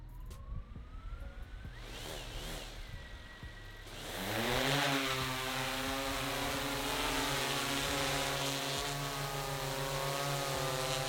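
An infrared inspection drone lifts off for a solar PV system survey. A steady, close rotor whine swells at about four seconds and holds loud to the end, with no talking.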